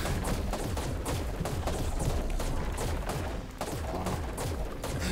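Rapid gunfire in the video game ARK Extinction, dense loud bursts of shots in quick succession over a constant roar of battle, with no pause in the shooting.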